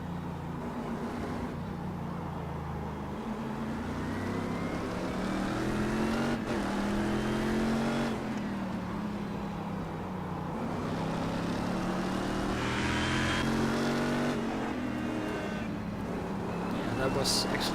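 Race car engines in iRacing game traffic, a loud continuous drone whose pitch rises and falls with shifts and throttle changes, with other cars close by, heard alone without talk.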